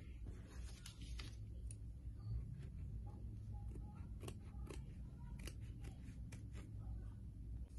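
Scissors snip fabric around an appliqué design, with a series of quick, faint, close cuts in an irregular rhythm over a low background hum.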